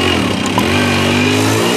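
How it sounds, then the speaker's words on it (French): A motorcycle in poor condition runs loud and close, its engine holding a rough, buzzing idle with a slight rise in revs partway through and no talking over it. "La moto là n'est pas en état."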